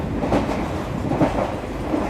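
Steady rumble of a passenger train running through India, a continuous low rolling noise with faint rhythmic clatter, close and even throughout with no speech.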